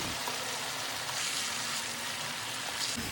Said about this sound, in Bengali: এখন একটি প্যানে পর্যাপ্ত পরিমাণ সয়াবিন তেল গরম করে নিয়েছি আর এই চিকেনের পিসগুলো গরম তেলে ফ্রাই করব